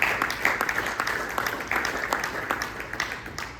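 Applause from a church congregation during a Spanish-English sermon: many hands clapping in a soft, even patter that continues throughout, moderately distant and fairly quiet.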